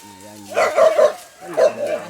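A dog barks several times in quick yips and bow-wows, close by, with a brief pause between two bursts.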